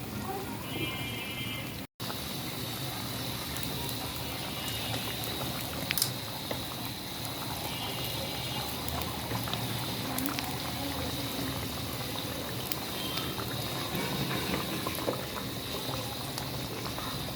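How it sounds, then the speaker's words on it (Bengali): Tomato gravy for a koi fish curry bubbles at a rolling boil in a pot, a continuous close simmering crackle with small pops and no pause. "ঝোল খুব ভালো করে বলক উঠে গিয়েছে"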